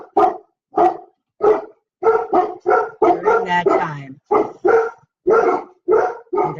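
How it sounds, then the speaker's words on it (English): Dogs bark in a rapid string of loud, sharp barks close by, several in quick bursts with short gaps, and a person talks briefly between them. "And there go my dogs."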